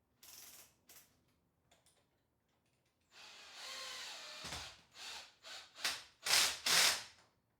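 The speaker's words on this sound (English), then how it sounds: "For those of you unacquainted with drill, that is a happy noise." A power drill whirs in a series of bursts, a short run first and then several louder, choppy revving pulses growing stronger toward the end, close and with no voices.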